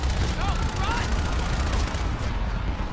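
Rapid video game gunfire crackles as a dense, continuous burst of shots, loud and close, with a player's voice talking over parts of it.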